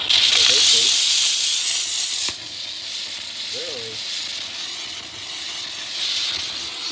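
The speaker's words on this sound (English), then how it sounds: "It just uses the power of steam to clean." A steady, bright hiss of pressurised steam from a Steamify steam cleaner runs throughout, louder at first and then easing slightly, with faint voice fragments underneath.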